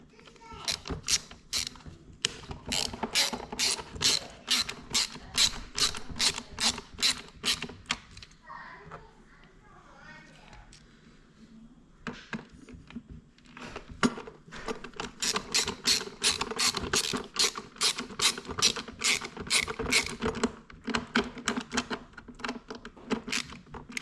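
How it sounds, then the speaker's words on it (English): A screwdriver ratchets rapidly while screws are driven back in during reassembly of a Cuckoo rice maker, giving close, quick clicking bursts that pause briefly and then resume. "we're gonna pivot this around and reinsert these two screws"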